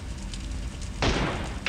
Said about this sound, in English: Ooh, yeah, gunshots.